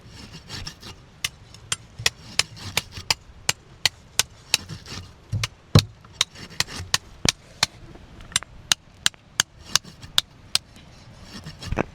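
Vanjaram (seer fish) that had been buried in sand for seven days is cut with a knife: a rapid run of sharp, close chopping strikes, some quick and bunched, others spaced out, over a scraping background.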